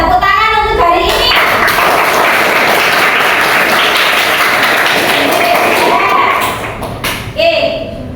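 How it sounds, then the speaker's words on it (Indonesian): Classroom applause from students clapping hands, a dense loud burst lasting several seconds before tapering off, with a few voices mixed in near the start and end. "Tepuk tangan untuk hari ini."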